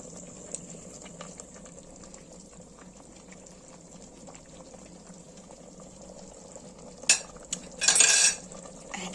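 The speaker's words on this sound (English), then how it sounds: "so there she is boiling" Ragu sauce simmers softly in a pot with a faint, steady bubbling, then a few sharp clinks of a utensil against metal near the end.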